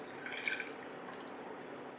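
A premixed herbal drink made with water is poured from a bottle into a cooking pot, a steady liquid splash and trickle over a hissing background, close and fairly quiet, with no talking.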